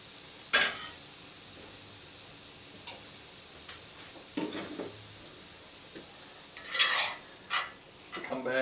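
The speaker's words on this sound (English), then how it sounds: "Again, just give that a little whisk." Red pepper mixture whisked in a bowl, a few brief clinking and scraping bursts separated by quiet gaps, with faint sizzling in the background.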